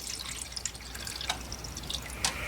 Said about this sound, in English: You go ahead and pour your water in here.